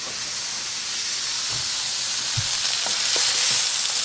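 Steak, peppers and onions sizzle steadily in a hot pan for a steak and cheese sandwich, a continuous bright hiss with a few soft stirring knocks.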